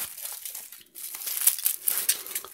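A bubble-wrapped parcel holding a car-wash sprayer bottle being unwrapped by hand, with dense crinkling and crumpling of plastic in quick, irregular bursts, close and fairly loud after a brief pause.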